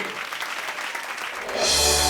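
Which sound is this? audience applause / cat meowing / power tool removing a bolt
audience applause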